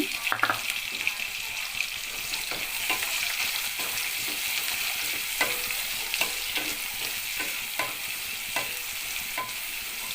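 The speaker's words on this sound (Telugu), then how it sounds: "ఉల్లిపాయ, పచ్చిమిర్చి ఆయిల్లో మగ్గించుకుందామండి." Onions and green chillies frying in hot oil in a pan while making a mushroom curry, a steady sizzle with intermittent scraping of a stirring spoon and soft clinks throughout.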